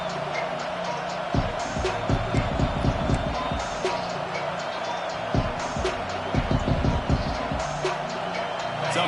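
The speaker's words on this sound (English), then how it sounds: "Man, this crowd really affecting the football game." Stadium crowd noise in the NCAA 26 college football video game, a steady roar broken by loud rhythmic bursts of clapping or stomping, with game commentary under it.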